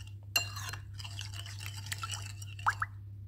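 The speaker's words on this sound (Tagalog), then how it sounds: "Paghaluin lang natin hanggang sa malusaw yung ating cornstarch." Cornstarch sauce mixture being stirred by hand, with soft scraping swirls and a few light clinks and plops against the bowl, steady and close under a low constant hum.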